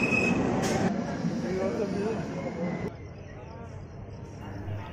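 A train at Andal railway station's platform gives a loud, continuous rumbling roar with a brief screech near the start, and the noise eases slightly partway through, while voices murmur underneath.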